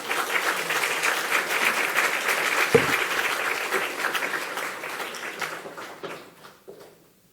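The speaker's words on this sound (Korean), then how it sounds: "나오실 때 우리 박수로 환영하겠습니다" A congregation at a Korean Sunday church service applauds to welcome the pastor to the pulpit, with steady, full clapping that swells, then gradually thins and fades toward the end.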